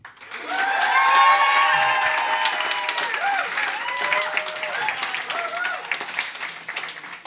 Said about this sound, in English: For those of you who think we cannot upskill our way out of the crisis, please clap now.